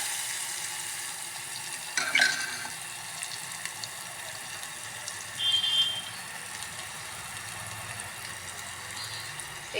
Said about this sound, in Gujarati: આવી રીતના વઘાર કરી દઉં છું.